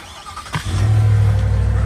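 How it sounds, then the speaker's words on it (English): A 2024 GMC AT4 half-ton pickup's V8 engine fires up and settles into a deep, steady idle rumble, loud and close, after a brief mechanical click, with no voices. "the sound of that V8 sure is pretty nice"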